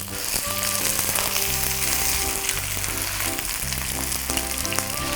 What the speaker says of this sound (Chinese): 我们先把姜蒜还有这干葱一个倒在锅里，让它慢慢去给它炒香